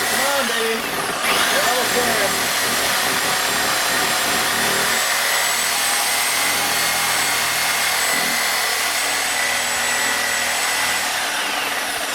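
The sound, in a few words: Sawzall reciprocating saw with diamond grip blade cutting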